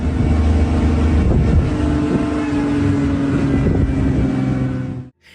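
A car engine roars steadily during a chase after a rhino through a forest, loud and close with wind buffeting, holding a constant drone before cutting off abruptly near the end.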